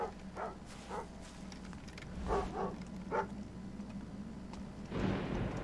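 A dog barks in the Thief video game, a few short muffled barks spread over several seconds against a low steady background hum, fairly faint and distant.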